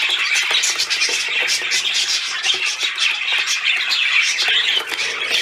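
Birds squawk continuously in a dense, shrill chorus from a bird box, fairly loud and steady with no talking.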